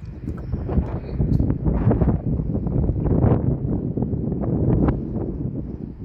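Gusty wind buffets the microphone outdoors, a loud, continuous low rumble with uneven surges throughout and no talking.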